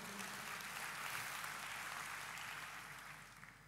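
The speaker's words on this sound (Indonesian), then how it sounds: "Berikan tepuk tangan yang meriah buat Tuhan." A church congregation applauding during a sermon, a steady wash of many hands clapping at moderate distance with a low hum underneath, gradually fading slightly toward the end.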